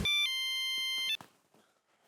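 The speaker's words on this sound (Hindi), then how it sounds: "मैं अभी फोन करता हूँ, पहले हाथी भाई को फोन कर लेता हूँ" Electronic phone keypad tones dialing a call, a short run of steady bright beeps that cuts off after about a second, followed by faint quiet rustling.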